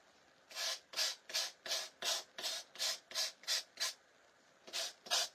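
Short, even strokes of a small Gator hand sander rubbing back and forth, about a dozen rasping passes in a steady rhythm with a brief pause near the end.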